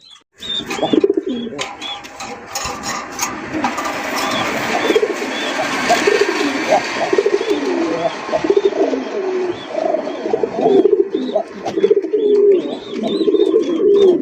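Fancy racer pigeons at a loft coo nearby in repeated soft, throaty calls, with occasional chirps and people talking faintly in the background.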